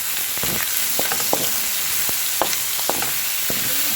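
Ham and pineapple tidbits sauté in a hot pan with a steady close sizzle, broken by scattered sharp clicks and scrapes of stirring.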